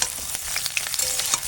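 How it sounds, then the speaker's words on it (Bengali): Cauliflower florets frying in hot oil until reddish, a dense crackling sizzle with quick popping spatters, close and steady. "ফুলকপিগুলো কিন্তু আমি লাল করে ভেজে নিয়েছি"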